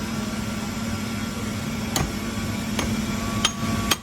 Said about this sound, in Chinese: 锁好以后敲2下，把它敲直